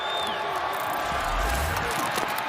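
A stadium crowd at Camping World Stadium at an XFL football game between the Orlando Guardians and the Houston Roughnecks roars in a steady wash of cheering, with a broadcast voice talking over it.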